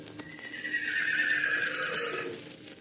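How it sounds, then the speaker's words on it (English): A horse lets out a long, bugling neigh that rises and holds, loud and close, with faint hoof clip-clop near the start; an old-time adventure radio drama sound effect. "he lifted up his voice and called to them, the long, bugling neigh of his kindred"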